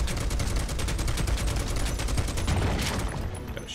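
Barret fires his gun arm at an obstacle in Final Fantasy VII, a loud rapid burst of automatic gunfire with evenly spaced shots that runs steadily for several seconds before easing off near the end.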